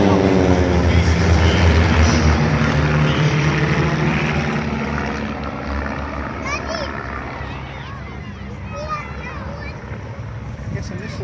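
Military jet aircraft in diamond formation pass at an air show, a broad loud roar fading over several seconds into a distant rumble, with spectators talking nearby.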